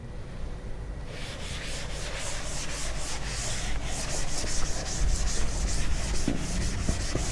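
A felt duster rubs across a classroom blackboard, wiping it clean in steady, continuous strokes with a dry, brushy scrubbing that grows slightly louder and more rhythmic toward the end.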